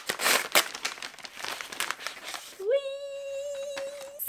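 Paper envelope holding a book parcel being torn and crinkled open, a busy rustling and ripping that ends in a brief steady tone.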